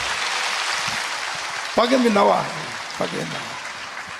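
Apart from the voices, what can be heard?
applause from church audience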